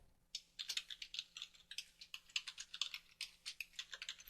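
Close, crisp keystrokes on a computer keyboard patter in quick, uneven bursts as a parameter name is typed into a software dialog, with no talking.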